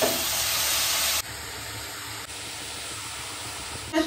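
Greens (saak) cooking in a pan on a home stove give a steady, close sizzling hiss that runs unbroken throughout, with no talk.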